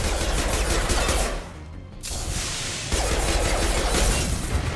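Sustained weapon fire in a Mass Effect 2 firefight, dense continuous bursts with crackling impacts that drop away briefly mid-clip and then resume at full intensity, no voices.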